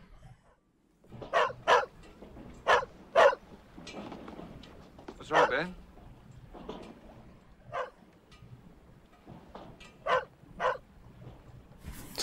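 A dog barks repeatedly in the 1989 film Dead Calm, sharp barks in irregular bursts at moderate distance over a low background hum, with someone speaking briefly between them.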